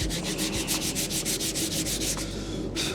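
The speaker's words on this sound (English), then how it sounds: "You kind of want to change your sand directions here." A sanding block rubs back and forth across a body panel of a widebody Subaru WRX in steady, rapid strokes, a loud, close, continuous rasping with a regular rhythm and no talking.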